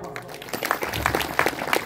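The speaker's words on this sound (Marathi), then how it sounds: "एकदा अन्नदान केलं त्याच्यासाठी टाळ्या वाजवा." At a religious discourse, a crowd bursts into quick scattered clapping that overlaps with voices, rising through the short stretch and staying fairly loud and close.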